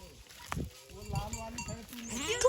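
A goat bleats in an Indian village, Dhagadia Mal, with a couple of short wavering calls close by, mixed among nearby voices talking and other farm noise.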